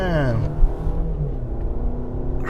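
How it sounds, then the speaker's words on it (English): A car engine hums steadily from inside the cabin while driving in rush-hour traffic, with a rising whine that drops at the start as the car shifts, and someone talks over it. "I don't know if you guys can hear my car"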